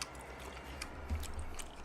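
Close, soft, wet chewing of braised short ribs with king oyster mushrooms: a steady mastication rhythm with a couple of slightly firmer bites, no talking.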